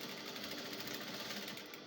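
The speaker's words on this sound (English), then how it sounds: "I'm going to sew on that 1 inch sewing allowance that we left" A sewing machine stitches a side seam on an A-line cold-shoulder shift dress with a 1-inch seam allowance, running in a fast, even, continuous whir of close, quiet needle strokes.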